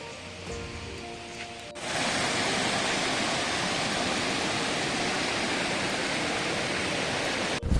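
Dhoni waterfall in Palakkad, Kerala, a steady loud broadband rush of falling water that swells in after a quieter opening and holds constant, close and unbroken.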